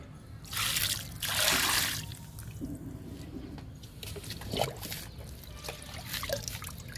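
Liquid fertilizer poured into the soil of a potted jasmine plant, with two louder splashing pours early on followed by softer trickles and drips, close by and without talk.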